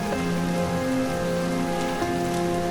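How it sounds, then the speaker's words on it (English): Steady rain falls outside, a dense continuous patter on surfaces with an even hiss and no breaks, joined by a faint low hum and no voices. "The rain outside hadn't let up."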